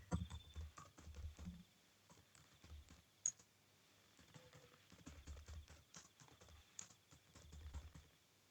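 Keyboard typing at a computer while editing a network settings page, irregular bursts of soft key clicks at moderate distance, pausing briefly between runs, with no voices.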